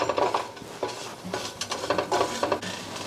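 A whisk stirs a roux of fat and flour in a pan, soft continuous scraping and swishing close by with a faint sizzle underneath.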